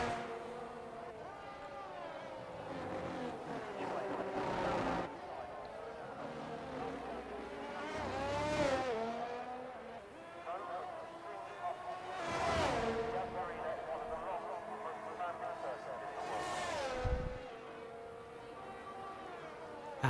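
F1 23 race car on a flying lap at Abu Dhabi, heard onboard as a screaming engine that builds through repeated gear changes and drops sharply into corners several times, steady and fairly loud throughout.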